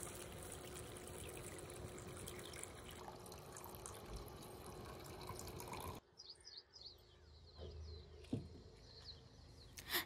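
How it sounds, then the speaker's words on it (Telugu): Water poured into a pan to boil noodles, a steady broadband pouring wash for about six seconds, then quieter splashes and drips with a sharp clink near the end, heard close with no talk. "ఇప్పుడు అదే పాన్లో నూడిల్స్ సరిపడా వాటర్ పోసి మరగనిద్దాం."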